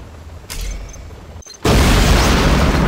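A nuclear missile strike in the real-time strategy game Command & Conquer Generals Zero Hour: a brief launch burst, a sharp cutoff, then a loud, sustained roaring blast that fills the rest of the moment.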